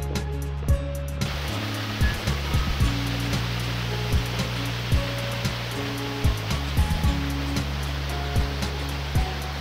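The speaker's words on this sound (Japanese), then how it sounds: "高間の滝が見えてまいりました。" Steady broadband rush of Takama Falls on Mount Kongo, Japan, close and continuous, with faint rhythmic thumps or footsteps running through it.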